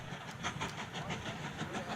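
A train runs along a track in the railway-building video game Mashinky, giving a faint, rhythmic clickety-clack of wheels over rail joints that repeats steadily throughout.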